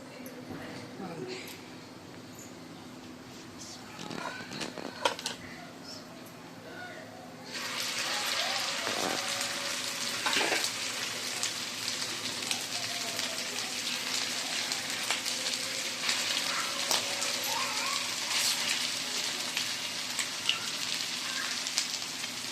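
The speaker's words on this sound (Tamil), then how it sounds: "மீதியெல்லாம் அப்படியே எடுத்து தவாவில் வச்சு" Chicken seekh kebabs frying in oil on a tawa give a steady, soft sizzle that turns louder and brighter partway through, with occasional light clicks and faint voices in the background.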